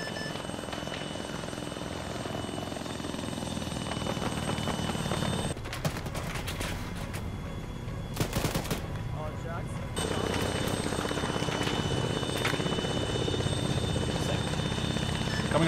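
A helicopter's rotor thrums steadily throughout in the video game ArmA 3, with bursts of gunfire from a heavy machine gun vehicle and people talking over it, the engine noise dropping briefly midway.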